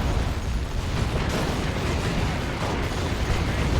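Orc stick bombs going off in a Warhammer 40,000 Dawn of War 2 battle against Ordo Malleus forces, a dense, continuous roar of blasts and gunfire with no clear gaps, loud and close throughout.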